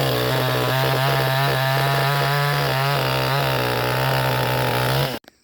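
A 62cc chainsaw with a 20-inch bar running loud and close, a buzzing engine drone that rises and falls slightly in revs before cutting off abruptly.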